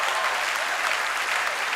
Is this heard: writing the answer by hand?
no